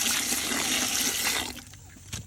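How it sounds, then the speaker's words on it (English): Water pours steadily into a container of fermenting animal feed mixed with apple cider vinegar on a homestead. It rushes loud and continuous for about a second and a half, then stops, leaving faint splashes behind. "add a little bit more water, make sure all the apple cider vinegar gets mixed in"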